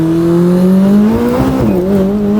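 A McLaren 600LT engine revs loudly and close up while driving, its droning note climbing steadily in pitch, dipping briefly around a gear change, then rising again.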